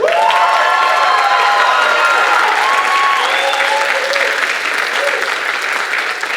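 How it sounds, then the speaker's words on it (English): Audience at a spring band concert applauding and cheering, a loud, sustained roar of clapping with whoops and shouted voices over it, slowly easing toward the end. "Give them one more round of applause"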